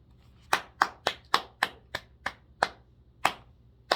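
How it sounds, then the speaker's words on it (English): Ten sharp hand claps ring out at a loose, slightly uneven rhythm, close and crisp with short decays, alone in a quiet room. "Clap."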